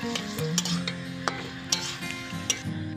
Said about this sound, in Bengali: এবার সব কিছু খুব ভালো করে নেড়ে নেব